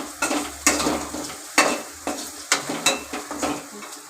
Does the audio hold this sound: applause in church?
no